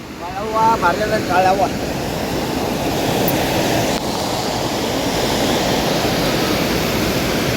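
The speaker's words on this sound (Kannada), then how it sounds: "ಕಾಳಿ ನದಿ ಎಷ್ಟು ಚಂದ ಹರಿಯಾತೈತಿ" The Kali river runs strongly in a continuous, loud, broadband roar. Near the start it sits under brief talk and a faint tonal sound.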